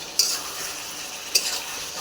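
A large free-range rooster's meat cooks in a pan, faint frying hiss broken by two brief scraping stirs of a utensil against the pan.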